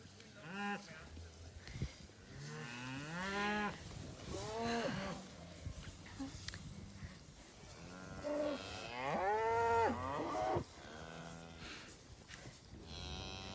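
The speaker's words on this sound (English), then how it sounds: "So the more time we spend out here with the cows and the calves, the more calm they are with us around here." Cattle mooing on a farm where cows and calves are kept, several long, loud lowing calls rising and falling across the clip, some overlapping, with farm background between them.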